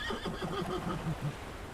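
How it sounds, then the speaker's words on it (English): Horses in stables whinny and neigh loudly, with a run of agitated calls and scuffling, hoof-like thumps close by, as a sound effect in a fantasy tabletop roleplay scene, heard without speech. "you hear sort of loud neighs and kicks coming from the stables"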